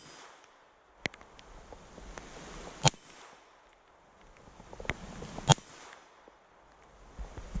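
A Kel-Tec P17 pistol loaded with CCI Mini-Mag hollow-point rounds fires a few sharp, isolated shots at a shooting range, each a crisp crack spaced seconds apart, with quiet gaps between.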